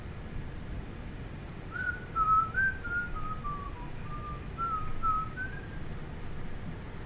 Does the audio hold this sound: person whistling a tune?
yes